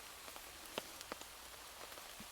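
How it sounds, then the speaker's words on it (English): Rain falls on a tarp over a forest camp, a faint, steady patter broken by a few sharper, close drips and taps scattered irregularly. "rain is set in now"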